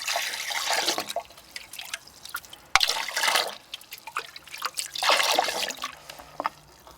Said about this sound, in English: You can actually hear it dripping.